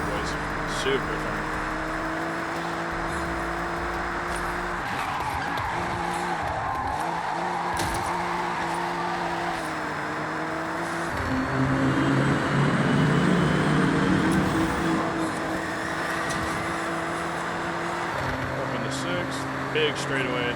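A race car in Forza Horizon revs and shifts through gears with tyre squeal while drifting, a steady loud engine drone that swells midway, with someone talking over it.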